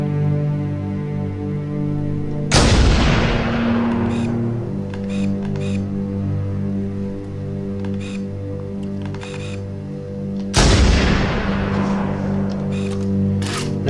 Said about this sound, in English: I tend to always reload after the third shot with the UNSC sniper rifle